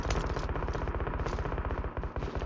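An M249 machine gun in PUBG Mobile fires in a sustained, rapid automatic burst, loud and continuous for the full stretch with a steady pounding rhythm.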